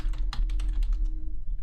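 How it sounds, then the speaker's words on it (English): Rapid typing on a computer keyboard, a quick run of close clicks in uneven rhythm over a steady low hum, with no talk. "now we can get back to typing planets."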